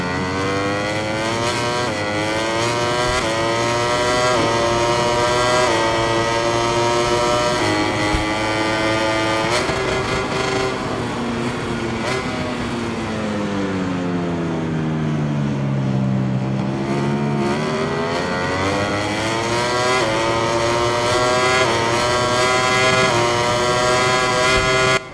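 A MotoGP 21 racing motorcycle engine screams continuously at high revs, its pitch rising and falling through gear shifts and a long dip and climb through a corner, loud and steady.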